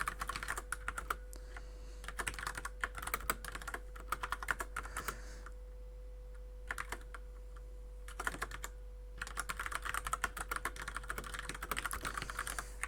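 Typing on a computer keyboard while writing code in Visual Studio, steady bursts of close keystrokes broken by a couple of short pauses, over a faint constant hum.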